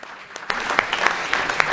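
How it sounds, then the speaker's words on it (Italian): A studio audience at a live event applauds a guest researcher as she is introduced. A burst of close, steady clapping starts abruptly and continues without any speech over it. "Eccola, applaudiamola."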